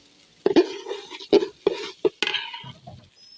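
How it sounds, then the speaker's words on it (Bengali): Rice stirred and fried in a pot for homemade khichuri, with several separate scraping clacks of a spoon against the pot over a soft sizzle, close and fairly loud, with no talking. "ভালোভাবে ভেজে নেবেন চাউলটা"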